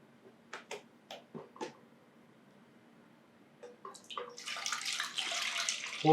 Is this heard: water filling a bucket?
yes